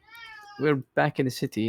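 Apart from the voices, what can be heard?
cat meowing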